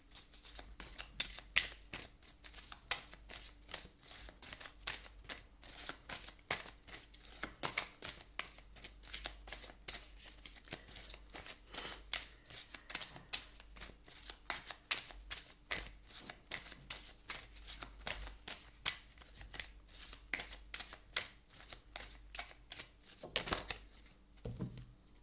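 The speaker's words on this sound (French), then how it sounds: "On va aller voir avec les cartes lumière de Lise Bartoli pour savoir un petit peu la part d'ombre à travailler pour vous" Oracle cards being shuffled up close, a continuous dense riffling and rustling that carries on for about twenty-five seconds without pause, with a few louder flicks near the end.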